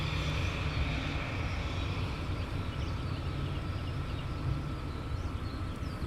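An EasyJet airliner taxis back along the runway at Luton Airport, its jet engines giving a steady, loud, continuous rumbling roar with a low hum that holds evenly throughout.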